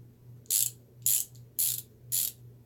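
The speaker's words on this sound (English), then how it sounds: "Arguably one of the better sounding ratchets at Harbor Freight." A Harbor Freight ratchet wrench clicks in four evenly spaced bursts, each a crisp, close run of pawl clicks against a quiet background hum.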